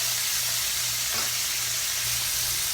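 Red chili flakes and garlic powder hit a hot pan where shrimp are already cooking, giving a steady, broad sizzle and frying hiss that holds evenly throughout, close and fairly loud, with no talking.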